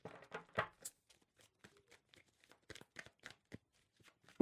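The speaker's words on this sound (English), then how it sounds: "I'm going to give these a very good shuffle before I start your reading." Tarot cards being shuffled, a run of soft, quick papery flicks and riffles, irregular and close, quiet between bursts with a louder snap at the end.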